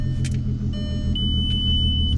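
A 2003 VW MK4 GTI VR6 engine idles steadily with a deep, constant low rumble close by, a faint whine running over it and a few brief higher clicks, with no talking.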